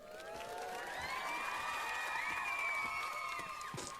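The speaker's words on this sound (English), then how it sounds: "you guys at home just heard nice cheer and applause" A crowd cheers and whoops with scattered shouts and applause, a steady roar of voices sustained throughout at moderate, somewhat distant level, with no single speaker.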